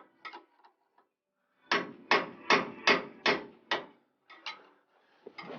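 Metal tapping with a small screwdriver wedged against a control arm on a 2004-2008 Ford F-150: six or so sharp, evenly spaced knocks in a steady rhythm, close and fairly loud, with a few lighter taps around them and no talk.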